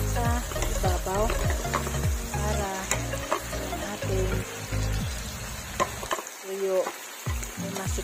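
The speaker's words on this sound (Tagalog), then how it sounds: "Tapos haluin natin at ilagay natin yung mga kamatis sa ibabaw." Dried fish stirred in a pan with tomatoes added on top, steady sizzling and scraping under a voice talking throughout.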